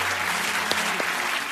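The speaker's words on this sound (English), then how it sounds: "give her a bigger round of applause" Studio audience applause for a comedian on a radio show, a dense burst of clapping with a couple of brief tonal blips over it, fading slightly toward the end.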